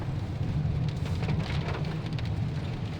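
Heavy night rain falls in Kannur, Kerala, a steady, loud rushing wash with small fluctuations in intensity and no speech.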